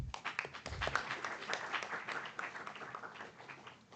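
Continued audience clapping at a memorial debate finals for the jury, a dense crowd of hands that swells early then settles into a steady, slightly fading patter.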